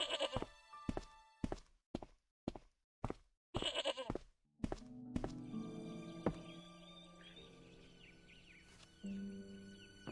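A goat in Broken Sword bleats in a series of short, separated calls, followed by a softer, sustained ambient game scene with faint tones and scattered sounds.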